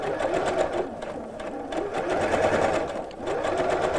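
A sewing machine runs steadily, stitching fabric with its presser foot centred along a ridge, a continuous close mechanical whir lasting the whole stretch with slight surges in speed.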